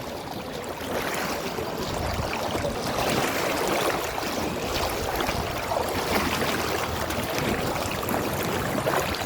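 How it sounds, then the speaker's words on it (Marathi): Floodwater rushes strongly through flooded village streets near a police station junction, a dense continuous roar of flowing water, steady and close throughout with no clear voices. "पाणी जास्तच वाहू राहिलंय."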